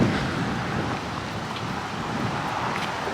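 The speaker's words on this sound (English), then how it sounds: "Yeah, windy." Steady wind rushes and buffets the microphone, a broad continuous roar with no voices.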